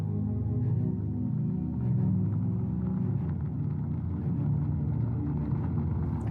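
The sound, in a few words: car pulling up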